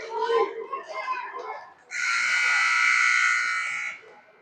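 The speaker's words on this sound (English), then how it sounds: "That buzzer is the end of the period." A loud, sustained buzzer ending a period of a Shakopee vs Mankato hockey game blares for about two seconds right after a stretch of excited talking, then cuts off.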